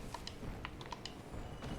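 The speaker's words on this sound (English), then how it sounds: "She's typing up a storm over there." Quick, irregular keystrokes clack on a computer keyboard, faint and close under a steady background hiss.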